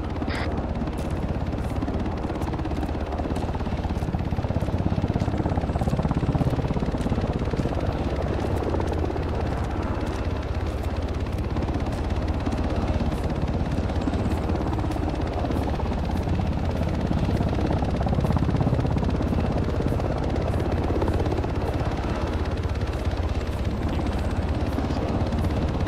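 Helicopter hovering overhead in the military video game Arma 3, a steady loud rotor drone with rhythmic blade chop that holds for the whole stretch with no talk.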